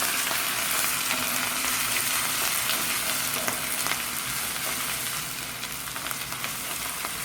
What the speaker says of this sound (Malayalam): ഇഞ്ചിയും വെളുത്തുള്ളിയും നല്ലോണം ഒന്ന് വഴറ്റണം.